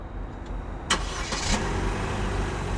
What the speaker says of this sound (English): To remote start the vehicle, just lock the vehicle and hold.